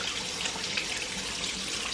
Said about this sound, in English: shouldn't vlog and run water, should I?